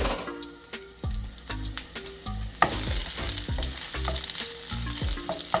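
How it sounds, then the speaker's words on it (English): Boiled jackfruit seeds drop into hot coconut oil and start frying with a bright, steady sizzle, punctuated by several knocks and scrapes of stirring in the pan, close up and without talk. "And now we could add our boiled jackfruit seeds."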